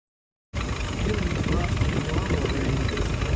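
A 1946 Willys CJ2A jeep engine, left sitting in a forest for over 40 years, starts abruptly and idles with a rough, low rumble, steady and close for a few seconds.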